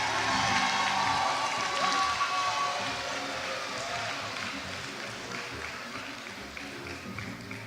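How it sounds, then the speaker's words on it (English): Crowd of about 500 people at an outdoor Olympic Day event applauding and cheering, a broad wash of clapping and voices that starts full and gradually fades. "So if you can give me a round of applause, a cheer or something"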